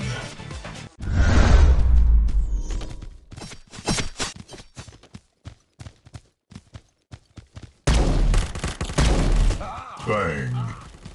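Bursts of gunfire and explosive blasts ring out in the mobile shooter game Guns of Boom, with rapid volleys separated by short gaps and a loud opening barrage. Game voice lines come in between the shots.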